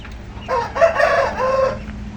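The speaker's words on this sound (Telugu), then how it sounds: "అదిగోండి కోళ్ళు కూడా" Chickens, including a crowing rooster, at a roadside poultry seller's coconut grove in Jaggampeta. A single loud, drawn-out crow sits close to the listener, with no talk over it.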